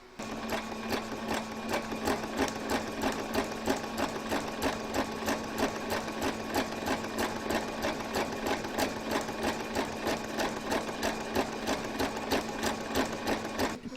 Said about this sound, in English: we're now going to go stitch around the edge using the fabric as your guide up against your foot